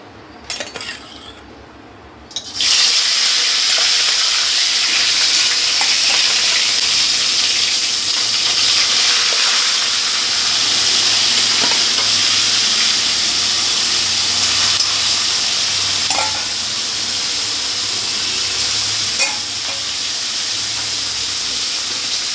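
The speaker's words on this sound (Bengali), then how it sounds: "গরম হয়ে গেছে, এবার মাছটা দিয়ে দেবো।" Loud, steady hiss of fish frying in hot oil starts abruptly after a quiet moment and carries on continuously, with faint clinks now and then.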